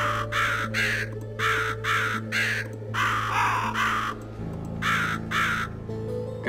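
Crows in the dark fantasy video game Book of Demons give a rapid series of harsh, close caws in quick clusters when clicked. Low steady game music runs underneath.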